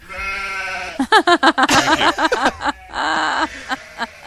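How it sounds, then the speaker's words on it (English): Sheep bleating in a video game, several loud, close, wavering bleats in quick succession with a longer cry near the end, alone without talk. "No, those aren't demon sheep. No, those are regular sheep."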